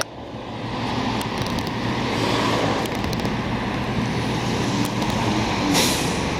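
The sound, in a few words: tanker truck passing on street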